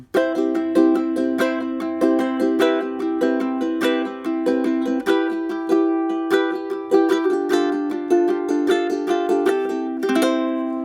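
Bright plucked ukulele strings strummed in a steady rolling triplet pulse, chords shifting a few times, close and clear with no voices.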